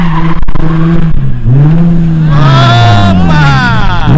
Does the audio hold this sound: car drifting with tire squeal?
yes